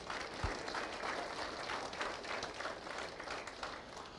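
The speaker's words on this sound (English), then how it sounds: "If we could give him a round of applause." Audience applause at a winter farm show in Watertown, a steady wash of clapping from a crowd that holds evenly for about four seconds without a break.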